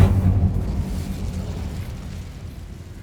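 An Incendio fire spell cast in the Hogwarts Legacy video game, a deep booming fiery burst up front that rumbles and slowly fades out, with no talk over it.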